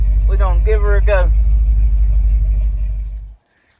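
A lowered, cammed square-body Chevrolet C10 pickup engine idles with a deep, steady low rumble, a few short vocal-like bursts near the start, then cuts off abruptly, leaving near silence.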